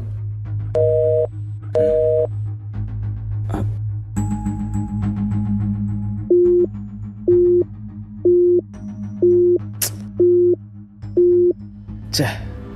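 A phone busy signal beeps in short, evenly spaced tones, repeating steadily over a low hum, with brief talk and clicks in between.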